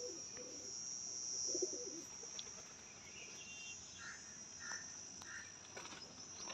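Paired pigeons in a breeder's loft give a few faint, low coos early on, then quieter scattered calls over a constant background hiss and hum.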